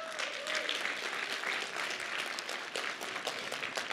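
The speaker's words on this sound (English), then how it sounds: "Let's give them a round of applause." Dense, sustained applause from a large audience at an esports celebrity match greets the Harvard and MIT teams, a steady even roar of many hands heard at some distance.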